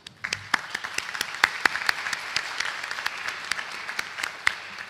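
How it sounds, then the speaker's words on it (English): Audience applause for veterans standing at a 2021 Granville Academy graduation ceremony, a steady spread of many hands clapping with sharp individual claps standing out, sustained for several seconds without talk. "can we give them a round of applause"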